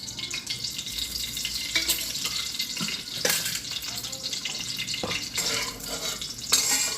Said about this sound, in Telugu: ఇదే బండిలో కొంచెం ఆయిల్ వేసి ఆయిల్ వేడెక్కాక ఆ పచ్చిమిర్చి పేస్ట్ వేద్దాం